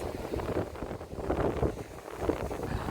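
Wind gusts buffet the microphone on the Odesa seafront by the Black Sea in December, rising and falling in rough, muffled surges at close range.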